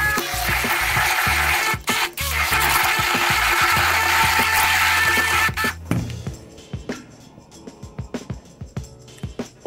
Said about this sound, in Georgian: და კარგად დავაბლენდეროთ.